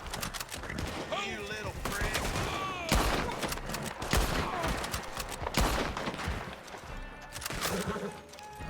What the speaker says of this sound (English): if I start shooting, is he going to try to run away?